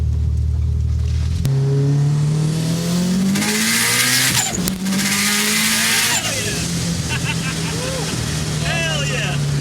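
A built Subaru STI engine revs hard on a dyno, climbing in pitch with a loud, continuous roar and then dropping back to a lower drone. Excited voices talk over it.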